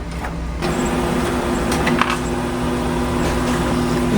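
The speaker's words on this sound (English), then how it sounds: "So we're gonna go ahead and place it in the printer." An iColor 560 printer printing on a canvas sheet gives off a steady, close mechanical hum with a few faint clicks and shifts, running continuously with no talking.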